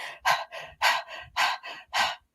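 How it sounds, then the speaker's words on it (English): Quick, shallow breaths in short repeated bursts, about five or six in two seconds, close and breathy, with no talking. "when we're stressed, the breath is very short and shallow"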